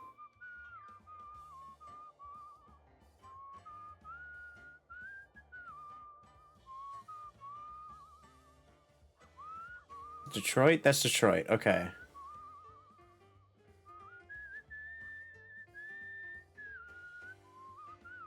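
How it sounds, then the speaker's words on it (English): A melodic whistled tune from a character in the video game Hitchhiker plays steadily, interrupted midway by a short burst of loud noise, while someone speaks briefly over it. "We got my whistling at least"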